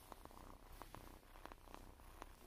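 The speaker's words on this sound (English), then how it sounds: "As you can hear right now, he's purring." A cat purrs very softly and close, a faint steady rumble with regular breathy pulses repeating every half second or so, nothing else over it.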